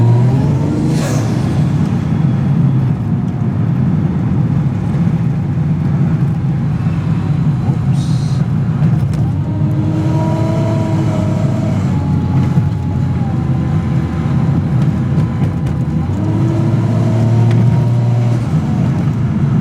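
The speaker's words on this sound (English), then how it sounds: "How about I just let you hear the car?" A Mazda RX8 with a swapped 1JZ-GTE VVTi big turbo engine accelerates hard, loud and close, with a rising engine note that climbs through several gear pulls over a constant rumble.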